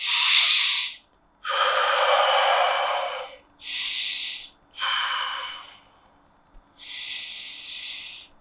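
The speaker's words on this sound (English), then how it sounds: "Take a few breaths." Deep, slow breaths during a guided breathing exercise, five long airy inhales and exhales in sequence with short silent gaps, close and fairly loud with no talking.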